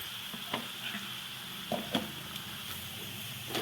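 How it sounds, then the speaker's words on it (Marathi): Broad flat beans (val pods) being sautéed and stirred in a pan with garlic-peanut powder, giving a steady soft sizzle broken by several scraping stirs of the spatula, close and fairly quiet. "त्याला पुन्हा चांगलं परतून घेते"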